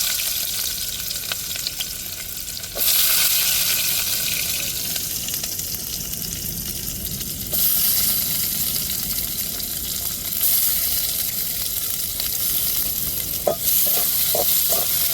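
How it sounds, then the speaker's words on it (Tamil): Chopped onions hit hot oil and fry with a steady, loud sizzle that swells in bursts as they are stirred, with a few clinks of a utensil against the pan near the end. "இப்போ நம்ம கட் பண்ணி வச்சிருக்கிற வெங்காயத்தை சேர்த்துக்கிடுவோம்."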